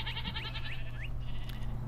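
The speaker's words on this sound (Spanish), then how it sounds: "Ah, está la cabra, miren." Minecraft goat bleating in a quick series of short wavering calls over a low steady ambient hum, fairly faint and close, with no talking.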